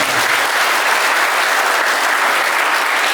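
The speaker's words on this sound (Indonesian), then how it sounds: "Tepuk tangan untuk kita semua" Loud, sustained applause from a crowd at a Maulid Nabi commemoration and group prayer, steady clapping with no pause throughout.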